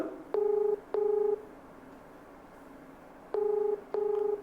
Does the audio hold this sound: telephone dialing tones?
yes